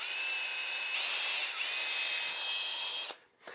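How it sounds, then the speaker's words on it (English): A power drill bores a hole into the center of a router table part, producing a steady high-pitched whine held for about three seconds before winding down. "what I'm going to do is drill a hole right in the middle"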